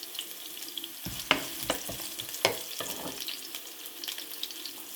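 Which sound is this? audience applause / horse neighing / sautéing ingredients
sautéing ingredients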